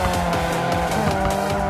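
Tires squeal steadily as a car drifts through a corner in Need for Speed Mobile, with a loud racing engine droning underneath, continuous and close for the whole stretch.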